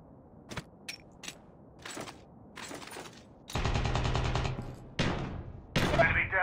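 Gunfire in the mobile shooter Call of Duty Mobile: a few scattered single shots early, then sustained loud automatic bursts filling the second half, with players talking over the action.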